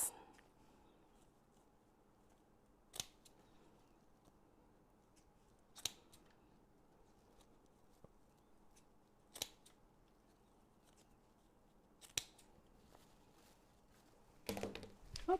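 Scissors snip through deco mesh ribbon while a Christmas wreath is assembled, giving five sharp, isolated cuts spaced about three seconds apart, then a quick rustling flurry at the end over a quiet room.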